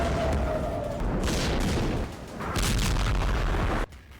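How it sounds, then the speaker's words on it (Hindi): Heavy rumbling explosions from an Iranian missile attack, a loud sustained booming roar with crackling bursts layered over it, swelling twice before cutting off sharply into a quieter tail. "ईरान के इस नए मिसाइल हमले की ये तस्वीरें देख लीजिए।"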